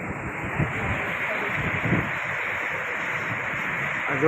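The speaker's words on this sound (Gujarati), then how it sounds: "દરિયાના મોજા જોઈ શકો છો તમે." Sea waves surge and wash continuously at Triveni Sangam near Somnath, a broad, steady roar mixed with heavy wind buffeting the microphone from start to finish.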